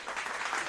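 Applause from a crowd, a brief dense wash of clapping at steady loudness with no pauses, heard on its own without talk.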